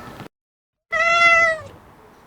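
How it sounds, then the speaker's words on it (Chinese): A single drawn-out cat meow rises clear and close after a short pause, with a faint murmur of room sound trailing off afterward. "这是我家猫。"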